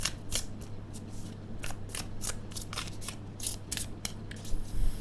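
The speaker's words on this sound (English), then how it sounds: "a quick riffle shuffle, and then I think we will get the answer" Playing cards being riffle shuffled in a quiet room, a run of quick crisp rippling bursts repeating across the stretch with a louder flurry at the end, no talk over it.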